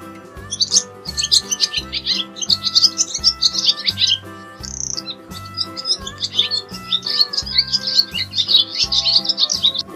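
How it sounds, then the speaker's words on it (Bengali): Birdsong with steady chirping and twittering from a dove in a tree, bright repeated calls continuing throughout over a soft rhythmic musical background. "ঘুঘু পাখি ডাকছে গাছে"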